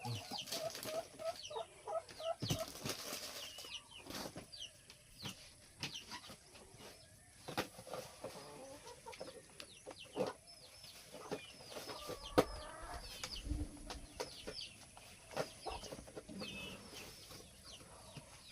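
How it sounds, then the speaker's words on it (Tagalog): Chickens clucking outdoors in a quiet rural spot, scattered soft clucks and calls at low level, with occasional taps and rustles nearby. "Tunog lang ng ibon ng naririnig mo."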